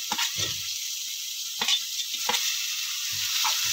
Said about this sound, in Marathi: आता टॅमॅटो घालून घेऊया